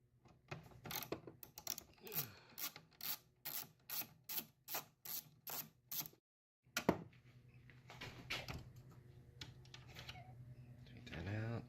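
A T20 Torx driver backing out a headlight bolt on a BMW 745Li, crisp evenly spaced ratchet clicks in a steady run, then a pause and softer fiddling and scraping with a person talking.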